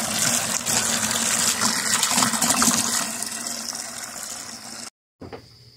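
Water gushes steadily into a goldfish quarantine tank during a water change, a loud, continuous rushing pour that eases slightly toward the end, stops abruptly, then briefly resumes.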